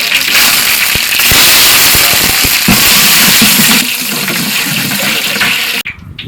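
Curry leaves and mustard seeds crackle and spit in hot oil for a village Tamil fish curry, a loud dense sizzle with sharp pops, ending abruptly.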